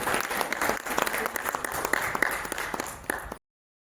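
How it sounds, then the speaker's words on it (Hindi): An audience at an International Women's Day event in Pithoragarh claps loudly and steadily for about three seconds before the sound cuts off abruptly. "एक बार जोरदार तालियां।"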